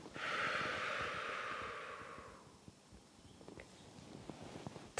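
A long, steady outward breath during a qi gong exercise. It is close and airy, holds for about two seconds, then fades into quiet with a few faint rustles.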